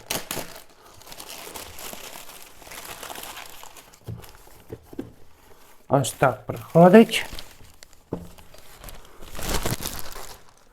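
Plastic packaging bag from an AliExpress parcel holding Onikuma X25 headphones, crinkled and rustled in brief bursts during unpacking, close and fairly loud, with someone talking before and after.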